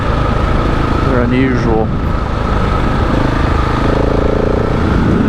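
KTM 690 dual sport motorcycle ridden on forest access trails in the Mille Lacs state forest, a loud steady engine drone with wind noise throughout, someone talking briefly over it.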